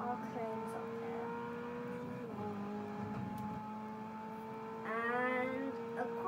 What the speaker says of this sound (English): Audi RS6 and a Mercedes AMG off the line.